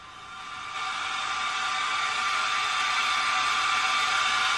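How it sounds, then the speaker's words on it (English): A hair dryer sound played back from a baby-sleep white noise app: a steady, even broadband whoosh that starts a little softer and holds constant and fairly loud throughout, with no voices. "So let's go to the hairdryer."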